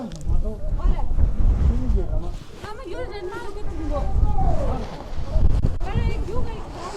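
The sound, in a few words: strong wind at Kibber monastery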